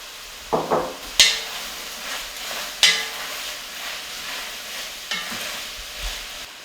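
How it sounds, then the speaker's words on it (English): Garlic, celery, carrot and squash cooking in a pan, with a soft steady sizzle and several sharp clanks and stirring scrapes of utensils against the pan. "I add my garlic, celery, carrot,"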